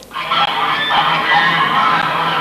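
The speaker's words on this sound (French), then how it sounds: "j'aime bien mes dindons quand ils font leur doux glou, glou, glou" Dense, continuous turkey calls from a crowd of birds, loud and overlapping with no pauses, like a flock gobbling and honking close by.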